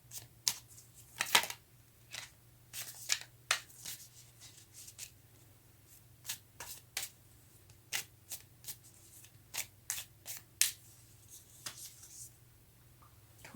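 Tarot cards riffled and slid against each other in a quiet room, a string of crisp, close snaps and soft shuffles coming in uneven bursts over a faint steady hum.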